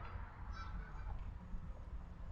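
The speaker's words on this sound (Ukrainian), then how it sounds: "Але там у нас качечки тільки що прилетіли." Ducks arriving in flight and calling outdoors, a run of honking, goose-like calls over steady low background rumble, fairly faint and distant.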